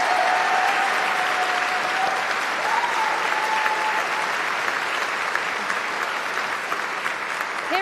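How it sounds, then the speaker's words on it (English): Audience applause at the BAFTA Games Awards ceremony, a dense, sustained wash of clapping from a large crowd that continues steadily throughout. "Can we get another big round of applause for Mark Choi and the Sonaris Ensemble?"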